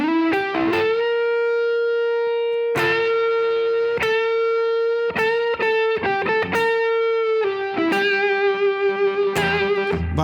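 Slow blues rock lick on a distorted electric guitar, with sustained bent notes and vibrato; separate picked phrases ring out loud and close with reverb, no talking.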